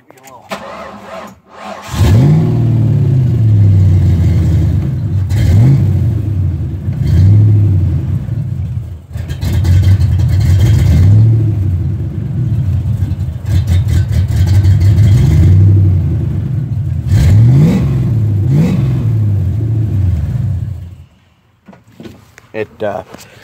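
A fuel-injected 302 V8 in a 1973 Ford F100 short-bed pickup with a mild cam idles loudly close by, then rises through several repeated revs with a lumpy, throaty note for about twenty seconds before shutting off; a voice speaks faintly under the engine at times.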